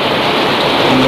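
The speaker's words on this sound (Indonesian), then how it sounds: "Di depan hujan kak." Steady rain pours down outside the front of a house, a dense, even hiss of drops on surfaces filling the whole moment with no voices over it.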